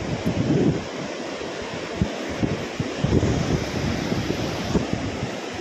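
Loud ocean surf rushes and crashes continuously, mixed with gusty wind buffeting the microphone and no voices.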